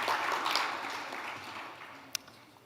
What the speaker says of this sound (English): May we give them another round of applause